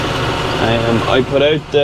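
A farm tractor's engine drones steadily in a field during harvest work, a constant mid-pitched hum under someone talking close by.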